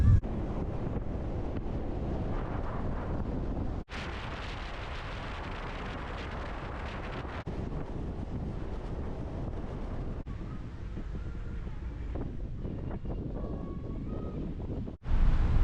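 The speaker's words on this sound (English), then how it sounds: "It was very, very windy." Strong wind roars and buffets the microphone in a heavy, continuous rumble, with brief dropouts and gusts throughout.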